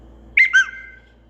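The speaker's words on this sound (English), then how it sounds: "Funny whistle." The Samsung Galaxy A24 'Funny whistle' notification gives two quick, clear whistle chirps, the second sliding down in pitch, heard alone in quiet.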